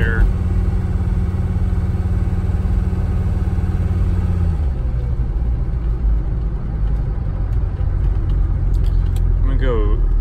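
A Mercedes 300D diesel with rebuilt injectors drives at part throttle, its engine drone steady and close throughout, the tone shifting partway as revs change, with a voice briefly heard near the end.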